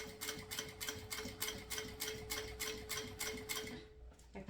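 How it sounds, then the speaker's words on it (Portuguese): A sewing machine stitches a synthetic leather pouch, running in a steady fast rhythmic ticking with an even mechanical pulse, close and fairly quiet, then halting at the end. "dou um ponto, um retrocesso, abaixando toda a alavanca e vamos lá costurar até finalizar"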